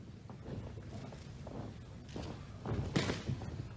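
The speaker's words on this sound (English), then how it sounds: "Another slamming leg kick" Heavy strikes land in a professional MMA bout between Elvis Sinosic and Kiyoshi Tamura, with dull thuds over crowd murmur and a louder slamming impact of a leg kick near the end.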